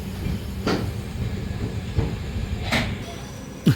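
Low rumble of a superfast express train rolling slowly into a railway station along the tracks, with a few metallic clanks and a brief squeal near the end.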